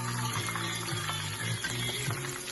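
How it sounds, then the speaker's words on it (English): Shrimp frying in a pan give off a continuous hissing sizzle with crackly bubbling, close and fairly loud, steady from start to finish with no one talking. "You hear it sizzle?"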